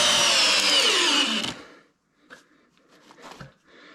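Milwaukee and DeWalt drills driving a structural screw whine loudly together, the motor pitch sliding downward as they bog under load before stopping abruptly after about a second and a half, followed by faint rustling and handling clicks.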